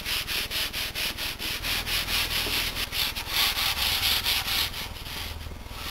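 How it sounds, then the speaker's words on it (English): Fine sandpaper rubbed over the body of a DIY electric guitar in quick, steady back-and-forth strokes, a close, even scratching rhythm of two or three passes a second with no voices. "go back over it with fine sandpaper"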